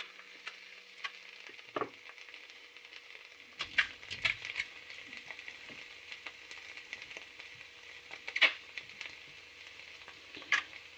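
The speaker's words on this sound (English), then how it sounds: "It's going to make a sizzling noise." Pink food hissing and sizzling in a pan on a stove, a steady close frying crackle with scattered sharper pops and a brief clatter of utensils.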